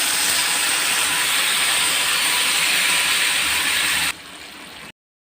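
Crushed garlic, curry leaves, dried red chillies, cumin, mustard seeds, chana dal and urad dal frying in two spoons of oil in a kadai make a loud, steady, close hiss that drops in level near the end before cutting off.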